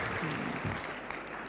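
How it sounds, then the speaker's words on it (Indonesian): Brief, faint clapping rises from a church congregation during a sermon, a short scattered patter heard at a distance. "ya boleh tepuk tangan"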